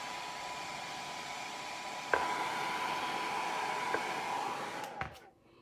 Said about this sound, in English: Hit it with a blow dryer. It's gonna dry super duper fast.